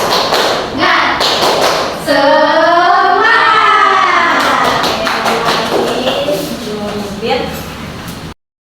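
A classroom of students performs the 'tepuk semangat' rhythmic clap, loud and near, with patterned claps and taps woven through a sung, chant-like group vocal running for several seconds.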